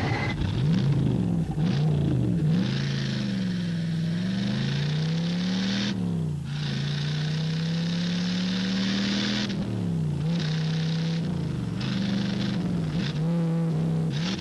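Loud, steady roar of a Chevy Camaro drag racing engine at a 1978 NHRA Summernationals meet, holding a strong low drone with pitch swells and brief dips, close and continuous with no talk.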